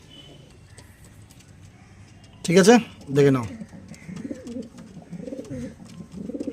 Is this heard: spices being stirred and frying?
no